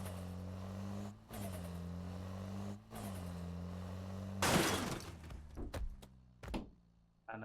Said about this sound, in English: Managed to hit literally the pole, and quite a few things ended up